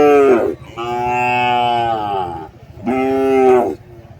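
Cattle and young calves at a rural livestock market in Tamil Nadu, with two loud, drawn-out moos close by, separated by a short pause, over a low rumble of market background noise.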